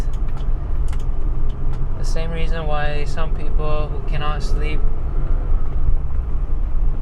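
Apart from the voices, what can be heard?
BMW E28 520i engine and road noise while driving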